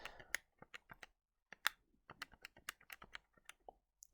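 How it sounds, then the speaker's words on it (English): Fingers tapping calculator keys while entering numbers for a cosine rule problem, a quick irregular series of sharp close clicks with short gaps. "so I can just type that in my calculator."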